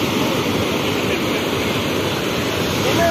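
Ocean surf rolls in at Arambol beach in Goa, a steady close wash of breaking waves with some wind noise and no talking.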